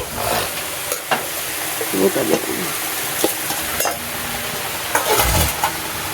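Prawns frying in a banana flower curry, continuous sizzle in the pan with repeated stirring scrapes and occasional knocks of a spoon against the vessel, close and moderately loud.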